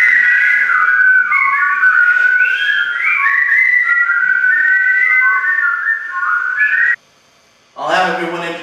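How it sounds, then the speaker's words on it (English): Many people whistle at once, overlapping tones sliding up and down for several seconds, then stop abruptly before a brief burst of voices. "now everybody, let's try some whistling"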